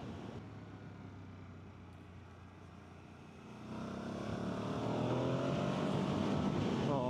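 Ducati Hypermotard V2 motorcycle engine revving and shifting down with a quick shifter, a continuous loud engine drone that rises and swells in the second half amid wind noise.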